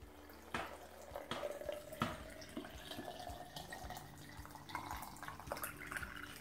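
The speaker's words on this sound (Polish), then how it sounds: "Doleję wody z filtra." Filtered water is poured into a jar of beetroots for a fermented starter, giving a soft, close trickle and splashing with small drips that vary in strength, quiet and without voices.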